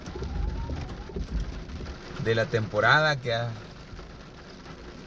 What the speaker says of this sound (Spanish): no ha parado la lluvia